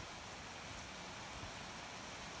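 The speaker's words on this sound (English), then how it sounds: "It's raining right now." Steady rain falls on a calf and steer farm near a penned area, a constant close hiss of drops with no pauses and no voices.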